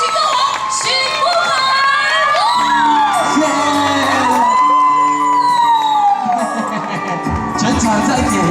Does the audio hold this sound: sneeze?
no